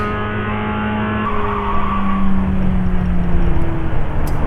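A race car in the iRacing sim racing game, on a real-world circuit, accelerates with a loud, rising engine roar that climbs in pitch through the gears, with tire noise underneath and no voices.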